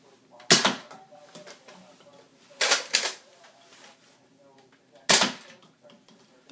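A Nerf toy gun is test-fired in three sharp, loud clacks spaced a couple of seconds apart, with mechanical rattling and faint handling noise between shots.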